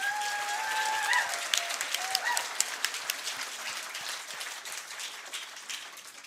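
Applause at a St. Louis Park Athletic Hall of Fame ceremony for an inducted team of distinction: a room full of people clapping briskly, with a few sharper claps and a cheer early on, gradually tapering off.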